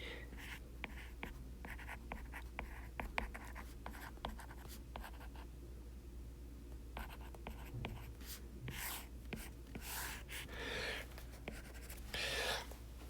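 Equations handwritten on a board during a dynamics lecture, quiet scratchy strokes and taps in irregular bursts, with a few louder sweeping marks near the end and no speech.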